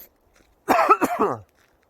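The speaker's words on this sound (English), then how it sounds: "You heard me cough a couple times while I'm out here walking." One close cough outdoors while walking, a short burst of a few rough, hacking pulses, with quiet before and after.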